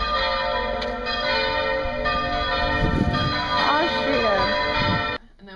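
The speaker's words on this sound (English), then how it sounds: "we walk out of our hotel to church bells" Church bells ring continuously with rich overlapping tones in an Austrian street, while people talk nearby; the ringing cuts off abruptly near the end.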